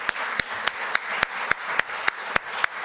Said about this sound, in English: I'd like to start by just giving all of them a round of applause for your amazing engagement.